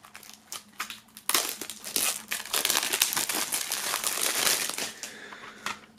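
Plastic shrink wrap being torn and peeled off a boxed album set, close and loud crinkling and crackling that starts with a few tugs, then runs in a long busy burst before tapering to scattered rustles.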